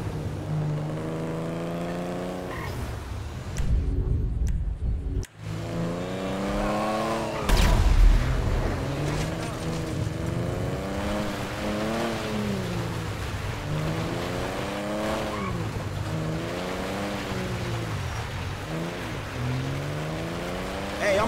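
A car engine in the video game GTA V, driving toward a truck stop, revving steadily with repeated rising and falling gear pitch sweeps, fairly close and sustained, with one brief sharp thump partway through.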